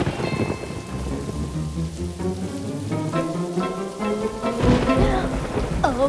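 Steady rain falls during the first monsoon rain while low, rolling thunder rumbles through the middle. A few sharper sounds come near the end.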